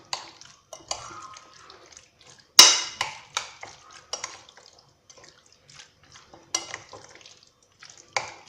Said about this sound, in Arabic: اذا نخلط المقادير مليح.